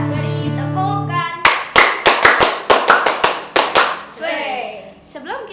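A group claps hands in a quick burst of about a dozen sharp, close claps during a cheer at a children's online worship service, with voices calling out before and after.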